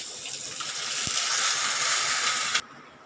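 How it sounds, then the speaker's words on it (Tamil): Rinse water from a mixer jar is poured into a cooking pot of mor kulambu, a steady close gushing splash for over two seconds that stops abruptly, with no talk. "இந்த மிக்சி கழுவின தண்ணியும் நம்ம இதிலே விட்டுடலாங்க"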